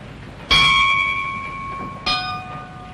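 A ship's bell is struck once, a bright ringing clang that hangs with a long tonal decay, followed by a second, softer strike about a second and a half later, both heard alone.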